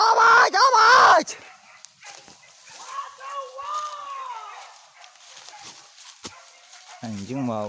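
Hunting dogs yelp and bark in bursts during a wild pig hunt in the Jambi forest, loud at the start and again at the end, mixed with shouting voices and rustling.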